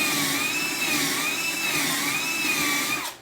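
A power drill bores a hole in a wooden shelf, giving a steady high-pitched motor whine that wavers gently in pitch for about three seconds and then cuts off.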